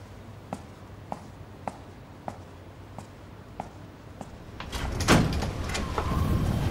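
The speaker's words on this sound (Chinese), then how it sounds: "知道我要来帮我开门" A door being opened indoors, preceded by a steady series of light evenly spaced clicks, then a louder rattling slide and clunk as it swings open, followed by a rush of background noise.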